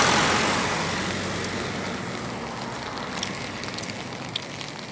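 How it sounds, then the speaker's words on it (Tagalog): Steady rain falling on a road, a broad even hiss that starts loudest and eases slightly, with faint scattered drops and distant traffic noise beneath. "Kasag na mag-uwan."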